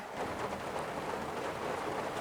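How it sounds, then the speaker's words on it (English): Rain falls steadily outside a church at dawn, a soft, even hiss of drops without breaks or voices. "Behind me there, it's raining again."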